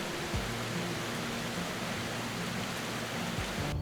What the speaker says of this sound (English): Athabasca Falls drop 23 meters, powerful cascade creating mist and sound.